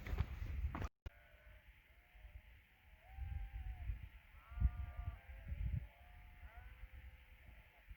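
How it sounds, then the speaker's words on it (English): A large flock of sheep on a Colorado mountain hillside bleats in scattered, overlapping calls from a distance, with rustling and footsteps close by. "I look over there in that hillside. I'm like, wait, what are all those white dots? At first I thought they were rocks."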